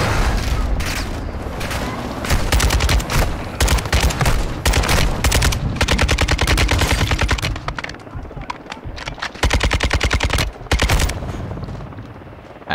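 Light machine gun fire in Call of Duty: Modern Warfare 2 (2022): long, loud, rapid bursts of automatic fire with brief pauses between strings, mixed with booming impacts and talk underneath.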